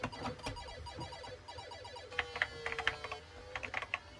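Rapid, uneven clatter of Tatung Einstein computer keys being mashed, bursts of sharp clicks growing busier in the second half, with no one speaking.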